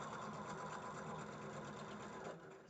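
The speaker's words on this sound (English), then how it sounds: "Just stitching my regular 1/4 of an inch seam, so it should work." A sewing machine runs steadily, stitching a quarter-inch seam in a quilt block, its rapid, even needle chatter close and continuous before easing off near the end.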